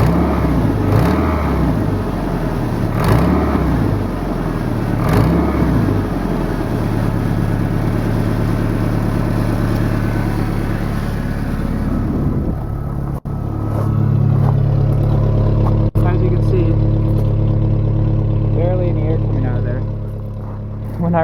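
A 1999 Toyota Tacoma 2WD engine with an exhaust leak runs close and loud, rumbling at steady low revs with rhythmic pulsing, then settling to a quieter idle while someone talks over it.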